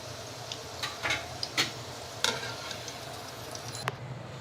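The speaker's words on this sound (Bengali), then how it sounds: "এখন আমি ভালো করে তেলটা ঝরিয়ে সবগুলো তুলে নিচ্ছি" Homemade chicken sausages are lifted out of hot frying oil, with a soft, quiet sizzle under a few sharp clicks and taps of a utensil against the pan.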